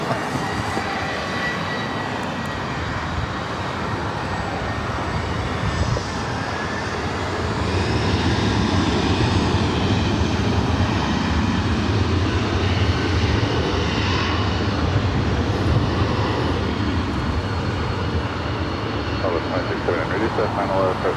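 A heavy airliner on final approach into LAX roars steadily and loud, its engine noise swelling and holding through the pass, with a voice faintly talking beneath it.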